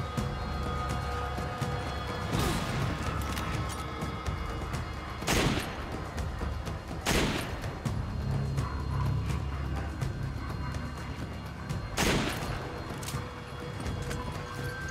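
Gunfire in the Resident Evil 5 video game, with a few sharp shots standing out over a steady loud bed of game noise and music, spaced irregularly through the stretch.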